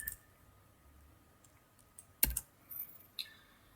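Typing on a computer keyboard at close range, a few sparse clicks followed by a sharp cluster of keystrokes and a couple of later taps.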